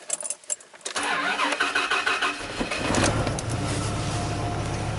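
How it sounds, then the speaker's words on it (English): A 1995 Dodge Ram V10 pickup cranking from a cold no-start: a few uneven starter clicks, then a long steady crank that catches and settles into a loud close idle. "A long crank time"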